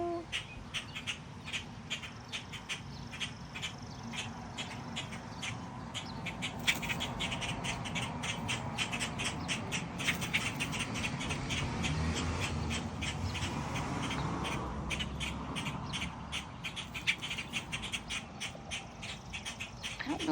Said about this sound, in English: the birds going nuts aren't robins, they're blackbirds